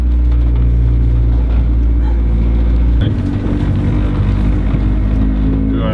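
A Honda CRX is driven with a loud, steady engine drone and road rumble heard from inside the car, and the tone shifts partway through as if changing gear.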